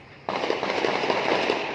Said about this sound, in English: I'll try to shoot the video for you guys and try to record the sounds, and we'll see if there is any fireworks.